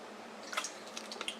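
Water from the MSR Trailshot backpacking filter drips and squishes in short, faint patters, a few soft drops spaced irregularly over a quiet background.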